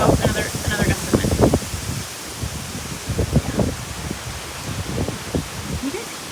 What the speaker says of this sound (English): oh, another gust of wind.